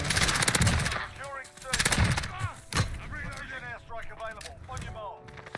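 Suppressed RAM-7 rifle fire in Call of Duty Modern Warfare multiplayer, with several bursts of muffled rapid shots among game sounds and voices talking.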